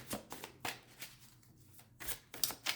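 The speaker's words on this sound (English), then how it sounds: "Let me just shuffle and find out who's gonna be" Soft riffling and slapping of a tarot deck being shuffled, several quick bursts close by, with short quiet gaps between.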